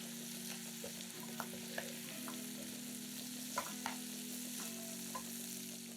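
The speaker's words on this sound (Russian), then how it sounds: "Все перемешиваем." Liver sizzling and frying in a pan while it is stirred, with a steady broadband hiss, low droning hum and occasional sharp clicks and scrapes of the utensil against the pan.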